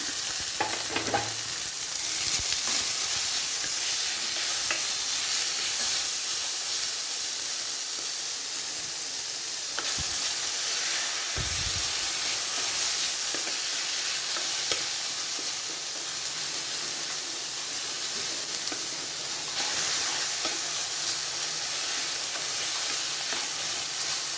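Ash gourd pieces go into a hot pan with curry leaves for thoran, setting off a loud, continuous sizzle and hiss with occasional stirring scrapes, lasting the whole stretch with no speech.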